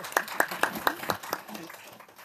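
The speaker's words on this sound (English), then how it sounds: "Shaida, applause for you." A panel audience at a conference on civil registration and gender equality claps in a short burst, with about six sharp, evenly spaced hand claps that fade toward the end against a faint room background.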